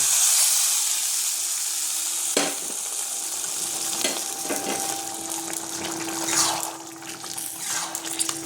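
Liquid poured into mutton kala bhuna cooking in a pan, a steady sizzling hiss broken by several sharp splashes and clatters as it hits the hot meat, with gurgling bubbling afterward and no speech.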